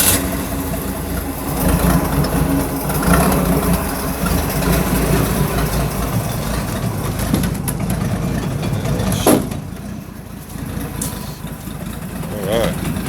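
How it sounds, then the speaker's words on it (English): The engine of a 1968 Boyertown van runs in gear with a rear wheel spinning off the ground, a steady loud drone and rumble throughout with a brief clunk partway through. "it's in gear right now, I think, it'll make that wheel spin."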